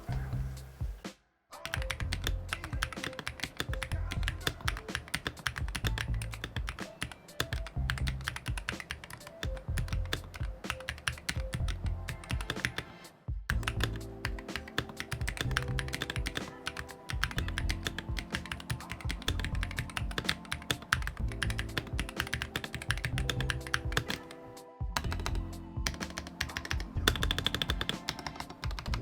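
Rapid, steady typing on an Epomaker HE80 mechanical keyboard fitted with Gateron switches, with dense clacking keystrokes, close and fairly loud, broken by a few brief pauses.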